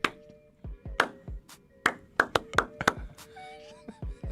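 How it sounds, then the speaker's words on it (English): Hand claps from baseball fans in the stands at a Rangers–Yankees game. About a dozen sharp claps arrive in an uneven, building rhythm, close and crisp, and some come in quick pairs. "I think you just start like a baseball clap"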